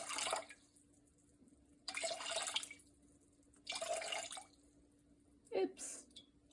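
Water poured into a bowl for sourdough bread dough, heard as three splashing, trickling bursts a couple of seconds apart at close range, with a voice speaking between them.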